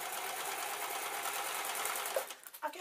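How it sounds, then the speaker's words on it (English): Sewing machine stitching a rice-filled cloth juggling bean bag runs in a fast, steady buzzing hum up close, then stops abruptly near the end with a few handling clicks. "so I've gone over it with the sewing machine"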